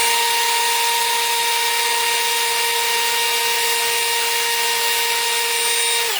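A drill spins a brush against a brass lamp check ring to strip off paint, a loud continuous high whine with a steady grinding rasp that holds for about six seconds before cutting off, with no voices.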